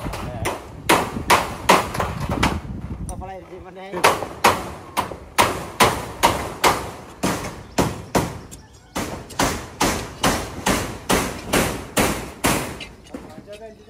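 Repeated sharp hammer blows driving nails into wood while building a chicken hut on a farm, in a steady rhythm, close and loud, with a short spoken phrase near the start.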